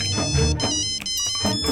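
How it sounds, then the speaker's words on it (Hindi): A phone ringtone plays loud and close in a home setting, a repeating electronic melody with short gaps between its phrases and no talk over it. "ए, फोन रिंग हो रहा है,"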